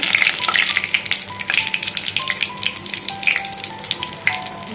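Bay leaves fry in hot mustard oil at the start of an egg curry, a close, crackling sizzle with scattered pops and spits over a low hiss.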